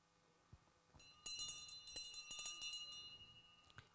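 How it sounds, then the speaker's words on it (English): A small bell rings repeatedly in quick, bright strikes, moderately close, over a quiet room tone with a few light knocks. "We can hear a bell ringing."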